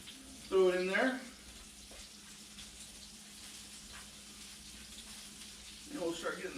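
Chicken-fried steak fries in a pan with flour added, a faint continuous sizzle running throughout, with a brief voice near the start and again at the end.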